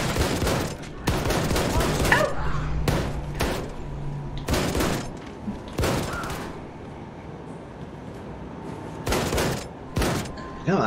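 Gunfire in the first-person shooter Wolfenstein II: The New Colossus, loud bursts and single shots repeating in irregular clusters across the clip, with a low hum and brief speech between volleys.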